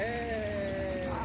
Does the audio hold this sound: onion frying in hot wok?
no